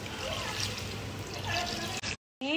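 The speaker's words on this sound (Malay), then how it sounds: "Okey, dah masukkan air." Water poured into a pot of about one and a half chickens set to boil, a steady splashing trickle that cuts out briefly near the end before pouring resumes.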